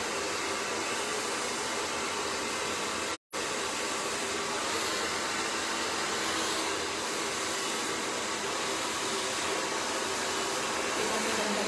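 Steady, loud blowing of a hair dryer during a blonde butterfly haircut, running continuously with one abrupt brief dropout near the start, no voices over it.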